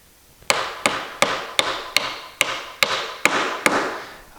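Nine evenly spaced, sharp hammer taps drive a glued axle into a wooden toy, each strike close and ringing briefly before the next lands at a steady rhythm.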